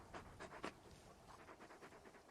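Torgal, the large wolf-like dog from Final Fantasy XVI, pants in quick rhythmic breaths, faint and close, with a few sharper huffs early on.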